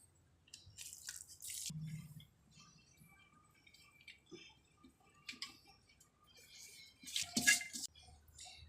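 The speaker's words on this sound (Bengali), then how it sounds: "দিয়ে দেবো কেওড়া জল" Kewra water and rose water poured over layered biryani rice, giving soft dripping and splashing trickles in short bursts, faint and close, with no talk.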